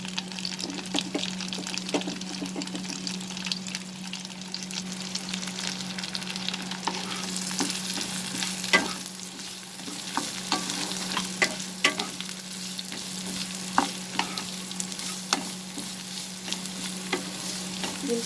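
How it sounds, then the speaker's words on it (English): Onion and dried red chilies, broken in half, fry in the same oil used for prawns, giving a steady close sizzle with frequent stirring clicks and scrapes throughout. "We'll fry the onion till it becomes slightly cooked or changes its color a bit."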